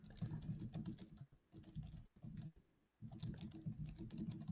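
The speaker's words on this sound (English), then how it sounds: "we know they're typing" Quiet, close clicking of fingers typing on a computer keyboard comes in bursts of rapid keystrokes separated by short pauses.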